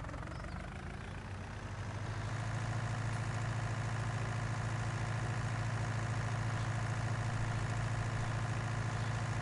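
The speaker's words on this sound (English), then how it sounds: "It's a lovely little tractor." A small tractor idles in Farming Simulator 19 with Seasons on PS4, its steady low engine drone holding close and constant, loudness swelling slightly after the first two seconds; no one talks over it.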